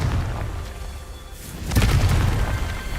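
A Confringo fire spell from Hogwarts Legacy goes off as one heavy boom about halfway through. It stands out above a dense, steady game background, and a crackling tail follows.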